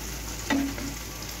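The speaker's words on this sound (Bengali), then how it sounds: "কোপ্তাগুলি ভেজে নিচ্ছি লাল লাল করে" Chhena kofta balls deep-frying in oil over a very low flame, a soft steady sizzle with one brief clink partway through, close but fairly quiet, with no voices.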